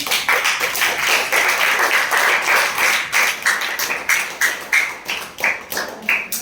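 Students in a science classroom clap hard in a steady, rhythmic beat, many hands striking together in sharp, repeated bursts up close, with no talking.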